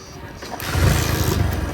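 A car engine cranks and catches partway through, then rises into a loud, rough running rumble up close.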